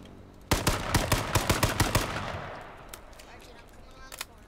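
Sniper fire in the video game H1Z1 cracks out as a rapid burst of about nine sharp, loud shots, followed by a fading tail and two or three fainter distant reports.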